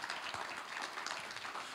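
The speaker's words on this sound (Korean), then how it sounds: "따뜻한 박수로 맞이해 주시면 감사하겠습니다" An audience at a Korean disability employment consulting awards event applauds to welcome a presenter, a steady wash of many hands clapping, moderate and continuous throughout.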